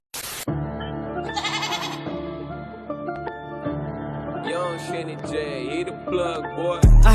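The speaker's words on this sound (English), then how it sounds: "the fact that they got goats like running around the field is crazy" Goats bleat in a field, wavering nasal cries repeating loudly alongside music, with several overlapping calls through the clip.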